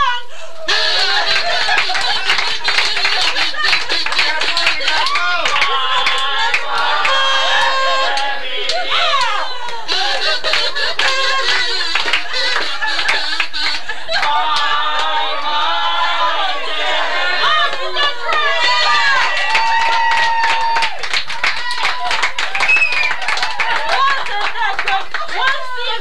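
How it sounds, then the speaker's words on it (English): Party guests at a 40th birthday clapping along with a sung song, rhythmic claps running under prominent singing and voices, with chatter and laughter mixed in throughout. "everybody clap along."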